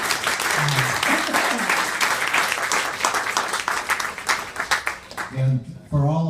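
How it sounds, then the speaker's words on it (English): Sustained applause from a large audience fills the room, with voices and a few cheers rising above the clapping before it tapers off near the end. "Give them a round of applause."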